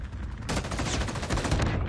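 M16 rifle in a first-person shooter game firing a rapid sustained burst after a brief lull, loud, close and continuous with crisp repeated cracks, no talking.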